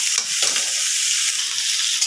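Pork and potatoes stir-frying in a kadai, with a steady loud sizzle and occasional scrapes of stirring, close up and continuous with no voices.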